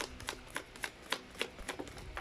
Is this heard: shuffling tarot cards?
yes